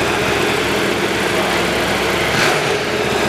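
CFMOTO TRG1250 patrol motorcycle engine running in stock form, a steady loud rumbling drone held close by throughout with a slight swell near the end.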